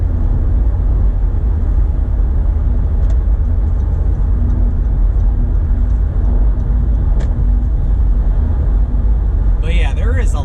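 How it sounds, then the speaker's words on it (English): Steady low rumble of highway traffic heard from inside a car driving northbound on US 23 between I-475 in Ohio and M-14, continuous and fairly loud, with a voice talking over it throughout. "there is a lot of traffic on this highway today"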